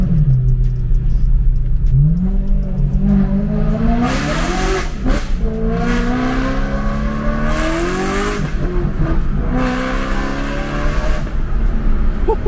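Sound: RWD V8 car accelerating hard and downshifting

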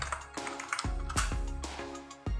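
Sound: pressing the Go button on an Avolites lighting console

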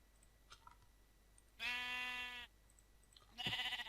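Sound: sheep bleating in Minecraft video game

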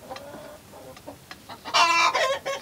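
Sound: chickens clucking, green-legged hen and rooster

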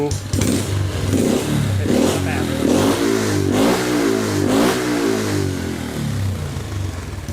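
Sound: Honda Wave 125 motorcycle engine running before nitrous activation

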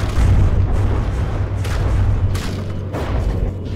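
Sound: torpedo explosions on a vehicle in a video game

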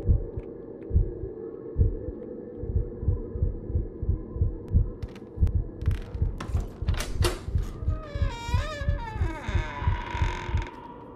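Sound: heartbeat sound in video game Inside The Backrooms

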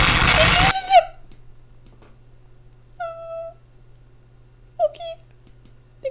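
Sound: cat retching sound from a video game

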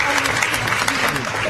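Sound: audience applause for the minister

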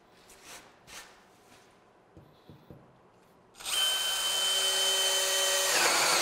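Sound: Milwaukee M18 FUEL cordless drill drilling a hole

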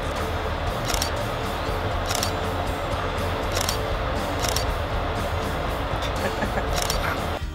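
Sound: camera shutter taking a selfie

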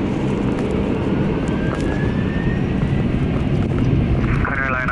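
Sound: Lufthansa Cargo MD-11F jet engines spooling up for takeoff

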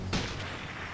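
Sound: gunfire in a sniper video game

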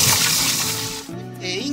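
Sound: rinsing salted green beans in water

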